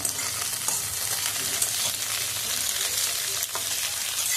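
Capsicum is stirred and fried in a pan with a steady, close sizzle. Soft scrapes and clinks of the spoon come through now and then over the continuous hiss.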